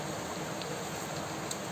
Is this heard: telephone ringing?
no